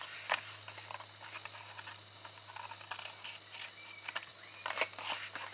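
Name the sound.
scissors trimming cardstock corners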